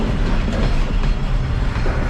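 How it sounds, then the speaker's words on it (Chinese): A Vietnamese train stands at Hekou station on the China–Vietnam border, producing a steady, loud, close rumble with a continuous low mechanical drone and no talk. "经过1下午的等待啊，终于等来了越南火车。"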